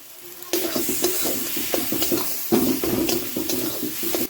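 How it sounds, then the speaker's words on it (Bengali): Salt, cumin, turmeric and chilli powder are stirred into a sizzling jackfruit kofta curry, with a spoon scraping the pan in a steady rhythm of repeated strokes over a constant close frying hiss. No one speaks. "স্বাদ মতন লবণ জিরের গুঁড়ো হলুদের গুঁড়ো ভালো করে মিশিয়ে কালারের জন্য একটু সামান্য লঙ্কার গুঁড়ো"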